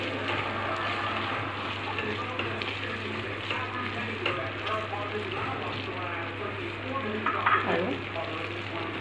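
Paneer bhurji with kasuri methi frying and being stirred in a pan, a continuous close sizzle with scraping spatula strokes and a low steady hum underneath.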